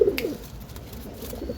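Andhra line champion pigeons cooing close by, a low throaty coo repeating through a short stretch with a faint flutter near the start.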